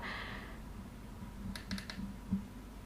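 A Wuben F5 camping flashlight's button clicks several times in quick, crisp succession, close and quiet over faint room hum.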